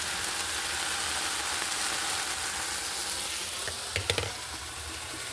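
Turkey simmers in its own oil in a pan, a steady close sizzle and hiss running throughout, with a few brief clinks near the end and no voices.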